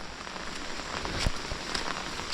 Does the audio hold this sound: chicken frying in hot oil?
no